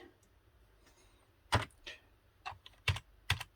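Sparse, crisp keystrokes on a Commodore 128 computer keyboard, a few isolated taps followed by a short cluster of louder clacks, close up in a quiet room.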